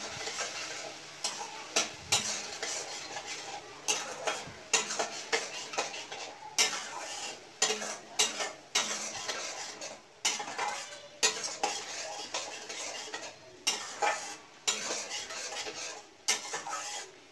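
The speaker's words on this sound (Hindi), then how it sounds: "चला लूँगी अच्छे से।" Cucumber chutney with sugar being stirred in a pan: a steady run of spoon scrapes and clinks against metal, close and fairly loud, with a faint sizzle underneath and no talking.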